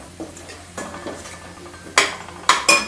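Clams cooking in a pan with Malvani masala give off intermittent scraping, stirring and clinking bursts from a spatula against the pan, with louder clatters toward the end over a low kitchen hum.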